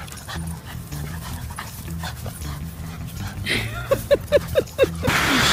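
A dog pants and snuffles nearby, followed by a quick series of short high yips or squeaks, ending in a burst of broadband noise.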